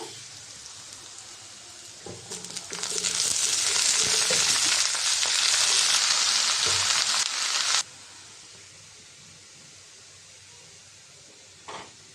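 Winter vegetables land in a hot pan with a loud, hissing surge of sizzle that holds for several seconds and then drops abruptly to a quiet background crackle; no speech.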